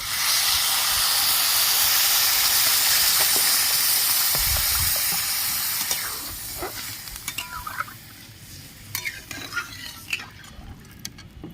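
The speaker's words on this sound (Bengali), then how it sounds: "আমি পরিমাণ মতন গরম জল দিয়ে দেবো" Hot water poured into govindobhog rice khichuri cooking in a pot gives a loud, steady hiss and sizzle for about six seconds. It then eases into softer bubbling with scattered stirring clinks, and no voices are heard.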